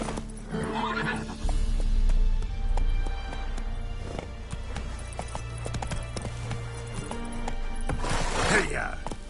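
Roach, a horse in The Witcher 3, gallops with fast rhythmic hoofbeats and lets out loud whinnies near the start and the end.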